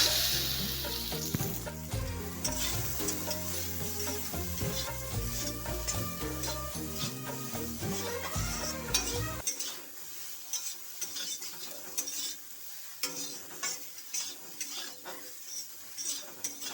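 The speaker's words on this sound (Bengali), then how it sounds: "সয়াবিন ভাজা করার জন্য তেল দিয়ে দিচ্ছি, রিফাইন তেল। তেল গরম হয়ে গেছে, তেলে সামান্য নুন দিয়ে দিচ্ছি, তারপরে সয়াবিনটা দিয়ে দিচ্ছি।" Soybean chunks frying in hot salted refined oil in a pan give a loud, close sizzle with clinks of a utensil stirring; partway through, the low background hum drops away, leaving thinner crackling and intermittent scraping.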